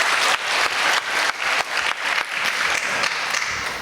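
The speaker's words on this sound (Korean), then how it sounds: "그래도 우리 박수 한번 해주세요." A church congregation claps together at a Sunday evening service, bursts of hand claps in a quick, slightly uneven rhythm that fill the room and carry on for several seconds.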